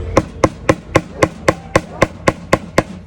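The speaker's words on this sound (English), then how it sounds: "Then I commenced to hammer." Hammer blows strike a nail through a strip of tape into a pot, eleven sharp, evenly spaced metallic hits at a steady rhythm, close and loud, with no talking.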